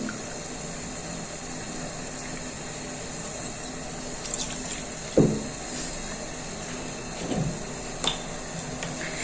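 Mineral water poured into a batter mixture, a steady fizzing, running liquid sound that goes on throughout, close and alone, with a few soft knocks and clinks near the end.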